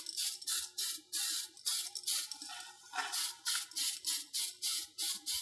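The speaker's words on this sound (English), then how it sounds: "I'm just going to spray a light misting coat." Clear gloss misted from a spray can in light passes, a rhythmic series of short hissing bursts with brief gaps between them, close and alone.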